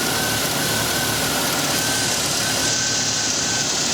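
Engine of a 2002 GMC Sonoma idling with a misfire, a loud close rough rumble with an uneven, stumbling beat running through the whole clip.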